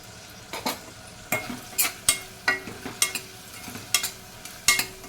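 Onions with salt frying in a pan for a masala moong dal curry, with a steady sizzle broken by repeated clattering stirs of a spoon against the pan at a regular rhythm, close by and with no talking.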